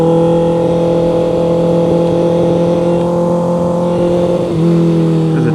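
Motorcycle engine held at steady high revs during clutch-up wheelie practice, loud and close with a strong sustained drone that dips briefly and shifts pitch near the end.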